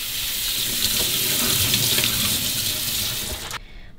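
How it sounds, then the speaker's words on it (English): Water runs steadily from a kitchen tap into a sink while vegetables are rinsed, a constant hissing splash that stops abruptly near the end. "You have to rinse them, yeah?"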